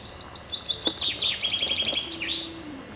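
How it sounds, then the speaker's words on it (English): A yellow canary outdoors among trees chirps in quick repeated tweets and short trills, close and fairly clear over a light background hiss. "moving regally, as all yellow canaries do"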